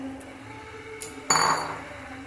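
Chicken stirred into masala gravy in a pot over a medium flame for chicken curry: a faint clink early on, a sharp metallic knock of the spoon against the pot, then a louder scraping clatter that trails off. No voices.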